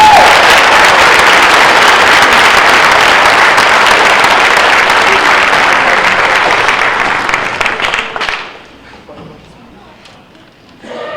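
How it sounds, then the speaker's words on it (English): An audience at a high school band concert applauds loudly and steadily for about eight seconds, then the clapping thins out and fades to scattered claps. "Let's give them a round of applause."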